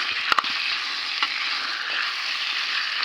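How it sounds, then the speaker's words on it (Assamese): Potatoes and meat frying in a pan over a low gas flame, a steady close sizzle with a few sharp clicks from stirring near the start. "আলু আৰু মাংসখিনি সম্পূৰ্ণ সিজালৈকে এনেদৰে অকণমান সময় গেছটো কমাই পেলাই ভাজি পেলাই ঢাকি ৰাখিম।"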